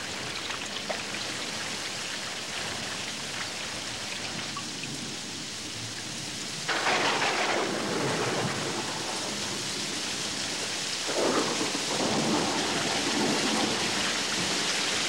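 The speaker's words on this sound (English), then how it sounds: "The rains start in late October and become more frequent as the months go by." Heavy rain pouring during a thunderstorm in the Pantanal wetlands, a dense continuous hiss of rainfall with low rolling thunder swelling twice in the second half.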